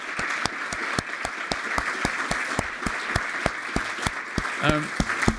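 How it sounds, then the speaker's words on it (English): An audience at a business charter anniversary event claps steadily, with sharp individual claps standing out over a dense patter of applause, and a voice briefly speaks near the end. "Another round of applause."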